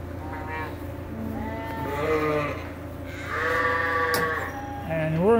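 Sheep bleat in a barn during night chores, several overlapping wavering bleats close by, one after another over a low steady background hum, with voices faintly present.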